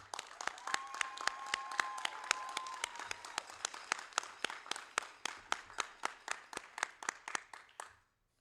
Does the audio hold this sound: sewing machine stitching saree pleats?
no